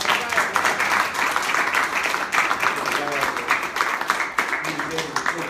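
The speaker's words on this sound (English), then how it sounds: "Let's give the mayor another round of applause." A crowd at a press conference for a march against police brutality gives the mayor a round of applause, with continuous clapping and scattered cheers and voices mixed in.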